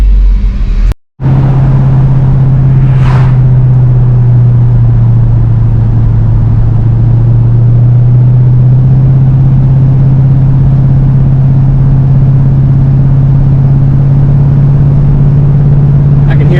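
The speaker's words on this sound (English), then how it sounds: "Just a little bit of clatter climbing this hill in high gear." A car engine labors up a hill in high gear with a light clatter over a steady low drone, continuous and fairly loud after a brief dropout near the start, on the drive home after a radiator recore.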